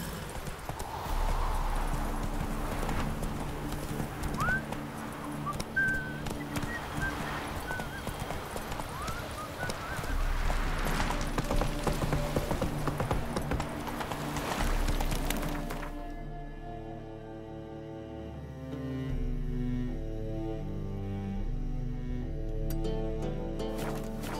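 Horse hooves galloping in The Witcher 3, a loud steady clip-clop rhythm with a whinny, running throughout as tonal game music rises in the later part.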